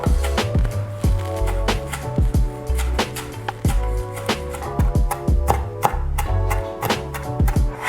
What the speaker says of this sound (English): Okay, so I'm just going to roughly chop all those herbs up now.